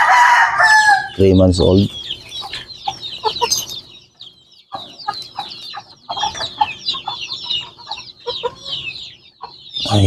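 A three-month-old pumpkin hatch gamefowl rooster crows loudly up close, then clucks repeatedly, with other birds chirping and brief talk from a person alongside.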